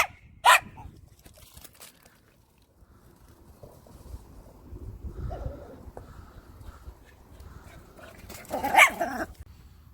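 Dogs at play with a ball: one sharp, loud bark near the start and another burst near the end, with quiet shuffling and faint movement between them.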